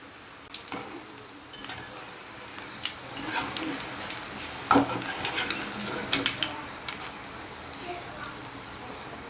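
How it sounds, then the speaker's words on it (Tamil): Cauliflower 65 frying in hot oil, a close, steady sizzle and crackle with scattered pops and occasional scraping of a stirring utensil in the pan. "இப்போ பாருங்கள் அந்த எண்ணெயோட சலசலப்புலாம் நல்லா குறைஞ்சிடுச்சு"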